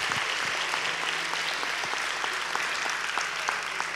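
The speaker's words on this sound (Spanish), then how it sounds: "Un fuerte aplauso para todos ellos." Audience in a theatre at a carnival child queen coronation gives a long, even round of applause, many hands clapping steadily and loudly throughout.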